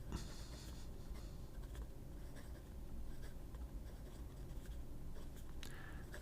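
A Jinhao X169 fountain pen with a fine steel nib, number 8, writing in red ink. The nib makes a faint, steady scratch on paper with small ticks of strokes, close and quiet, with no one talking.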